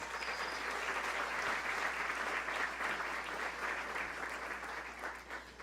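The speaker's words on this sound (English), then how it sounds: "How about giving them a round of applause?" An audience at an indoor arts forum claps steadily and continuously, a dense wash of applause that holds for several seconds before easing slightly at the end.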